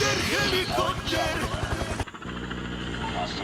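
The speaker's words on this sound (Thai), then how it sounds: "ตามด้วยเฮลิคอปเตอร์" Helicopter in the Call of Duty Mobile video game, a loud rotor chop with rhythmic thumping that cuts off abruptly partway through, mixed with game sound effects.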